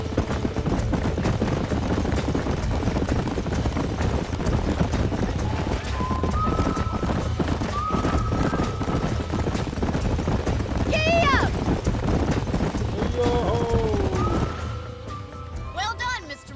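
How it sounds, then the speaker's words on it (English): Horses in the Western game Red Dead Redemption on a ranch, a steady clip-clop of hooves with a whinny near the middle, running under continuous game music and ambience while characters talk. "These are fine horses."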